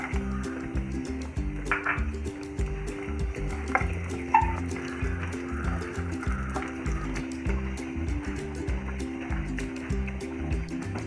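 Raisins frying in ghee in a pan for broken wheat payasam, a soft steady sizzle with small crackles, set against continuous music, no talk.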